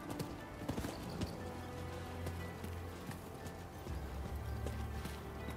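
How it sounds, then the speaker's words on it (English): A horse summoned in the samurai action game Rise of the Ronin gallops in with rapid clip-clop hoofbeats and a whinny, the sound faint and steady over a soft backdrop of game ambience. "Let me call the horsey"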